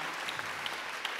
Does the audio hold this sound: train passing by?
no